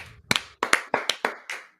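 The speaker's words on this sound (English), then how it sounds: "Yes, let's go clap. Let's clap," Hands clap close up, seven sharp slaps at an uneven, fairly quick pace, each loud and crisp with a short decay and no talking.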